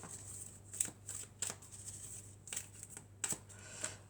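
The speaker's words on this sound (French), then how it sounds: "on va prendre quelques cartes du toi et moi" Oracle cards from a love-themed deck are shuffled and drawn, giving a handful of crisp, scattered riffles and snaps at close range, with quiet pauses between them and no voices.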